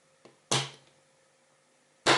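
A Samsung charger is pushed into a wall socket, giving a faint tap and then a sharp plastic click, followed by a second click in a quiet room.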